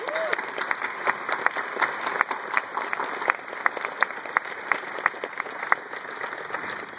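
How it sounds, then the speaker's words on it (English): An audience at an honorary doctorate ceremony applauds with steady, moderately loud clapping, the individual claps distinct, and a voice talks briefly at the start. "A round of applause for my..."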